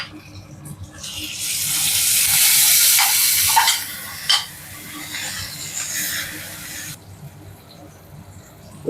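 Chopped tomato drops into a hot pan with oil for a spicy green plantain fry, and a loud hiss of sizzling bursts out, then fades to a softer crackle after a few seconds.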